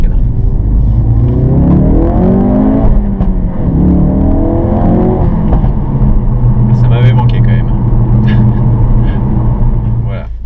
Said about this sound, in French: on est sur la Ford Focus RS grise avec la montre de pneus Pilote Super Sport